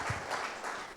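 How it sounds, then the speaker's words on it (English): An audience applauds a Director General at an academic colloquium: a brief, steady wash of clapping from many hands, moderately loud and continuous throughout. "let's give the Director General a round of applause"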